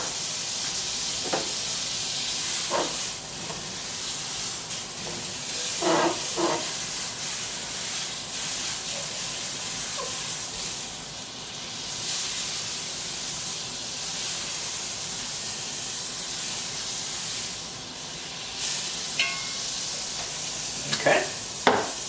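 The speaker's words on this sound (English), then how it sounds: "We're going to go ahead and add the butter." Butter melting in a pan warmed to medium heat, a loud, continuous close-up sizzle and hiss, with a few faint clinks of a utensil and brief low voices now and then.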